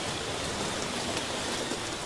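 Steady rain pours in the Congo rainforest, a dense even hiss of drops on leaves and ground, continuous and moderately loud with no breaks.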